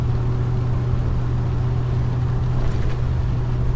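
Old car with a freshly changed distributor and new points, engine running steadily while driving in wet weather, a continuous low droning hum with tyre and road hiss, no speech.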